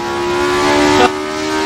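Ford Escort RS 1600 engine revving high in Assetto Corsa on the Nordschleife, a loud, steady tone that climbs, cuts briefly at a gear change, then carries on strongly.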